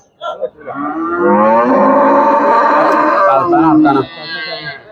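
A water buffalo at a cattle market lets out a long, loud, drawn-out low moo lasting several seconds, close by, with a brief shorter call at the start.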